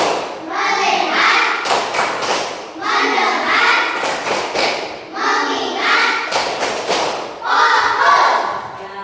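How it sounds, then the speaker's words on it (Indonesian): A school class does a rhythmic focus-clapping routine, tepuk fokus, with loud group claps and thumps in repeating bursts and children's voices chanting along between them. "Tepuk fokus."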